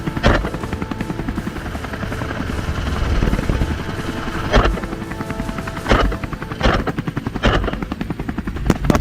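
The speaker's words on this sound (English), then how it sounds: "The helicopter glides low over a not yet harvested field near the village where" A helicopter flying low over an unharvested field near a village, its rotor chop pulsing rapidly and loudly throughout, with a few sharp bursts cutting through.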